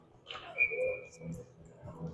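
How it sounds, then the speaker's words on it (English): At a youth ice hockey game in a Denver rink, a referee's whistle gives one short, fairly faint blast over low arena murmur and distant voices. "So we get a whistle."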